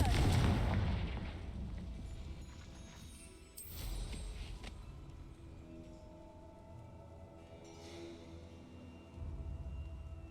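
The Confringo blasting spell explodes in the video game Hogwarts Legacy, with a loud booming blast at the start, then rumbling, crackling bursts and a further impact later on, and no voice.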